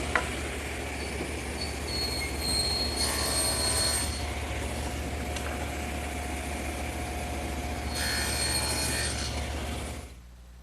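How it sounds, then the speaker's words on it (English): Table saw with its blade raised to 3/16 inch making shoulder cuts on the ends of wooden rails, a steady close whine broken by louder, brighter stretches as the blade cuts, then spinning down at the end. "now I'll make the shoulder cut on each end of all the rails"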